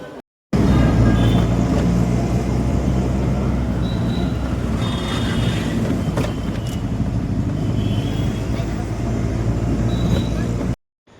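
Constant loud rumble of a busy station with rail and road traffic, faint beeps and horns over the din, and indistinct voices in the crowd.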